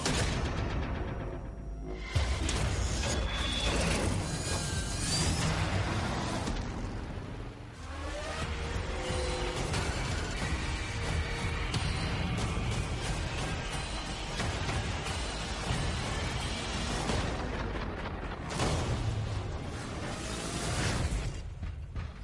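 Mad Max: Fury Road film trailer playing in a convention panel room, a dense, loud mix of explosions, roaring engines and crashing action effects with a driving score.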